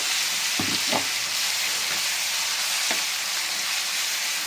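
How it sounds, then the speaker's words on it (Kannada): Ground masala paste fries in hot oil for mango rice, a continuous close sizzle with a few brief stirring scrapes near the start, no voices. "ಮಸಾಲೆ ಎಣ್ಣೆ ಬಿಡೋವರೆಗೂ ಎಣ್ಣೆಯಲ್ಲಿ ಈ ಮಸಾಲೆನ ಚೆನ್ನಾಗಿ ಫ್ರೈ ಮಾಡ್ಕೋಬೇಕು"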